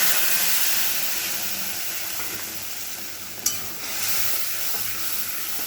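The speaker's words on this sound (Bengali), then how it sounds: "এবার একটু কষাবো। দেখুন মশলাটা আমার কষানো হচ্ছে" Spice paste for a Bengali fish curry sautés in hot oil with a steady, close sizzle and a broad hiss, broken by one sharp tap of a spoon or spatula against the pan partway through.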